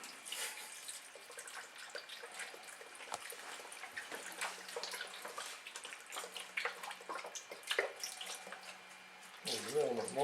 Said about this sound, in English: I'm going to go ahead and put our beef broth in